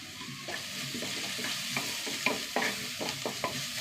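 Crushed small onions, ginger, garlic and curry leaves fry in hot oil in a pan, with a steady soft sizzle broken by repeated scraping stirs of a spoon against the pan.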